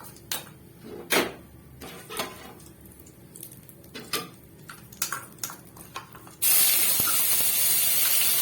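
Onion paste dropped into hot oil with black cumin and dried chilli, first scattered sharp crackling pops from the spices, then a sudden loud continuous sizzle that holds steady to the end.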